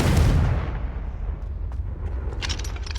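A Confringo blasting spell from Hogwarts Legacy erupts in a loud, deep boom that rolls off over about half a second, followed by a rumbling low tail and a few faint crackles and magical flickers near the end.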